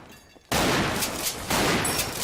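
Gunfire in the video game Double Action Boogaloo, loud rapid bursts of shots that start abruptly and surge again partway through, dense and close.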